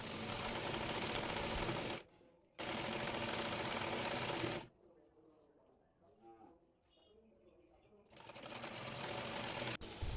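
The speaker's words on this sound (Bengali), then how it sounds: "এরপর 2 পাট একসঙ্গে করে কলি সেলাই করে নেব।" An electric sewing machine stitches palazzo trouser fabric pieces together, running in two loud close bursts, pausing while a person speaks quietly, then starting up again.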